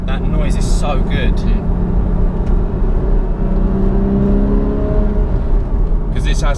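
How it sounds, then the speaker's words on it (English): A Porsche Cayman with a naturally aspirated engine, droning loudly from inside the cabin as it changes down gears, with people talking over it throughout. "even when changing down, that noise is so good"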